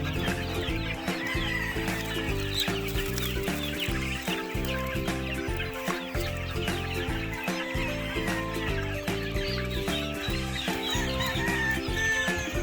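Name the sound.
gamefowl chickens clucking in breeding cages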